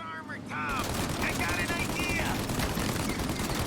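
Steady, continuous gunfire from a shootout in Mafia Definitive Edition, sustained and fairly loud, with a voice speaking briefly over it near the start.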